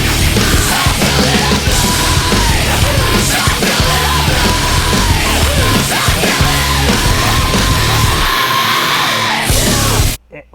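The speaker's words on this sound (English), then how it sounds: "going back to that scream, what I love about it is it's not even melodic. It's just emotion." A loud, sustained raw yelled scream from a song rides over dense distorted rock instrumentation for about ten seconds before cutting out abruptly.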